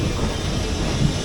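Mandovi Express train running from Madgaon to Mumbai, a brief steady rumble and rattle from inside the carriage, loud and continuous with no talk.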